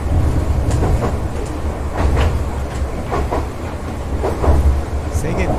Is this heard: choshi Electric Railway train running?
yes